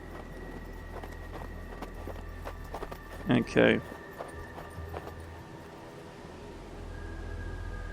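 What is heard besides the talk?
horses' hooves clip-clopping in video game Hard West 2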